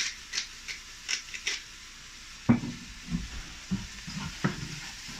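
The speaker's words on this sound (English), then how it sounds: "Stir everything together. We want all of those rice grains to be covered with all of that goodness" Rice stirred in a pot with saffron, garlic, thyme and black pepper: quiet grainy swishes and light spoon scrapes come in short, irregular bursts, with a few soft knocks against the pot in the second half.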